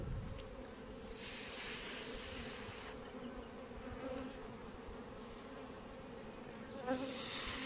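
Honeybees hum and buzz around beehive frames in a continuous, fairly faint drone, with a few louder passes of individual bees close by and no voices.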